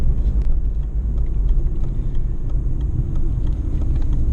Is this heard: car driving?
yes